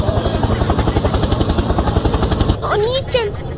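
A helicopter's rotor thumps in a steady, fast chop for a couple of seconds, then drops away as voices take over.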